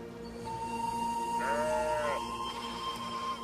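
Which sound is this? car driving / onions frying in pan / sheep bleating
sheep bleating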